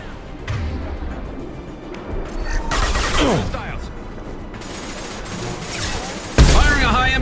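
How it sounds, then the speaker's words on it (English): High-impact shots fire in Mass Effect 2, with loud, sharp blasts and crackling bursts around the middle and a heavy hit near the end, over a constant background of game ambience. "Firing a high-impact shot."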